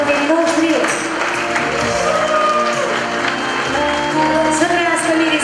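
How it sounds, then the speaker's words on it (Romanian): Wedding guests applaud as the bride and groom are invited to open the dance, the clapping a steady wash blended with music and a voice talking over it. "Aplauze pentru copiii noștri."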